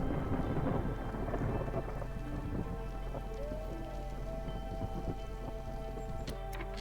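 Video game thunderstorm with steady rain pattering on surfaces and low rolling thunder underneath, fairly loud and continuous throughout with no talking.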